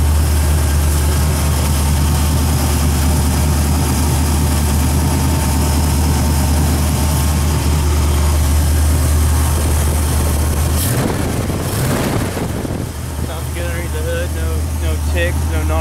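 A 1981 Trans Am with headers and Cherry Bomb mufflers idles with a deep, steady low rumble, close and loud, with someone talking over it partway through.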